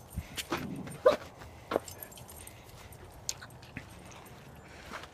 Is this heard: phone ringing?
no